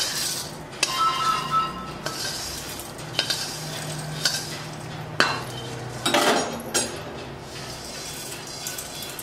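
Metal utensils clink and scrape in a large steel vessel and plate while wet bhel is mixed from yellow turmeric-salted puffed rice and farsan, with several sharp clinks over a steady low kitchen hum.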